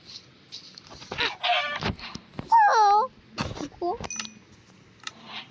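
Minecraft chicken clucking in a few short bursts amid the game's blocky footstep and action sounds, with a voice briefly talking in the background.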